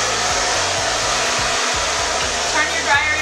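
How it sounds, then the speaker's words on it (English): A hair dryer blows continuously and loudly up close while bangs are dried with a round brush, a steady whooshing roar with slight shifts as the airflow is moved. "go ahead and blow dry your bangs so that they lay nicely"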